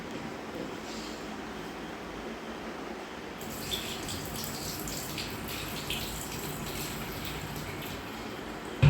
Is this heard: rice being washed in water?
yes